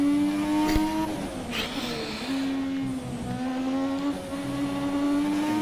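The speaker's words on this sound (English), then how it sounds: "You can certainly hear the old turbo going away behind me here, because this car was still using a turbo." Classic turbocharged Formula 1 car engine in the game F1 2017, a sustained high whining engine tone that rises and dips with throttle changes, moderately loud and steady, with no talking.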